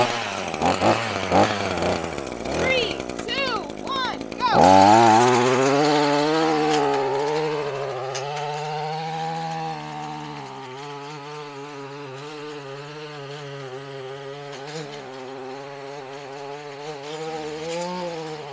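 A gas-powered lawn edger runs while edging, starting with revving bursts and then a loud, steady engine drone with shifting pitch as the blade cuts along the lawn edge, close up and alone.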